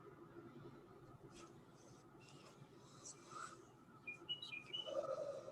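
Birds chirp outdoors at a home grow setting, with faint scattered tweets early on and a few brighter, closer calls near the end over a steady low background hum.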